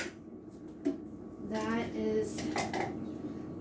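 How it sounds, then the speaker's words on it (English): Dishes clatter as they are reloaded after cleaning up: plates and cutlery clink and knock at close range in a series of irregular bursts, with faint kitchen background noise. "we are going to reload these dishes"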